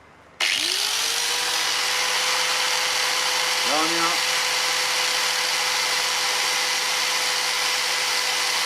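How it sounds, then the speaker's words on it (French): An electric fan in a Fiat Ducato van switches on and hums steadily at close range, a constant whir with a tonal drone; a voice speaks briefly over it. "Le ventilateur se met en marche."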